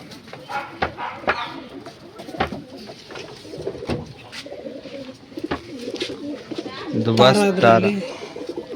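A male Dubas pigeon coos with soft, throaty rolling calls spread through the clip, growing louder and more insistent near the end, with someone talking intermittently alongside.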